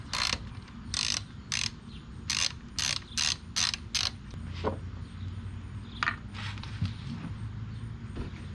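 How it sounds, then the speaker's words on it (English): A ratchet wrench with a 17 mm socket loosens the oil drain plug on a 2024 Kawasaki Ninja ZX-6R, giving eight crisp, close, rhythmic bursts of pawl clicking, then quieter workshop handling sounds. "Time to get wrenching."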